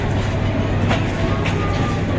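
Train running on rails in a continuous loud rumble with faint rhythmic clatter, heard close by and filling the short stretch without pause.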